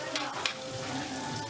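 Chicken feet adobo sizzles and fries steadily in a pan, a close, continuous crackle with a couple of brief stirring scrapes and no talk.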